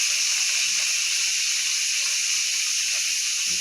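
Cabbage frying in hot seasoned grease in a pan gives a steady, close hiss that holds at an even level throughout, with no voices over it.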